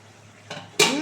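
A metal lid lifts off a pot of cabbage cooking in a mixed-vegetable dish, giving a soft clank and then a louder ringing scrape, with the steady sizzle of cooking underneath.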